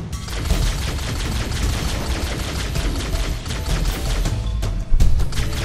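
Shotgun fire in Halo: CE during a dense firefight, with rapid overlapping blasts and crackling shots over a thick, noisy battle backdrop and one heavier boom near the end.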